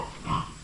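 Pigs on a farm grunt once at mid-range, a short low oink rising briefly over rural background noise.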